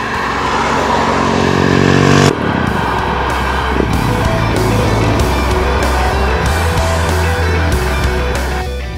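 A 2015 KTM SMC-R 690 motorcycle with an aftermarket VMC exhaust revs hard, loud and throaty, then settles into a sustained rumbling idle with a steady, uneven beat.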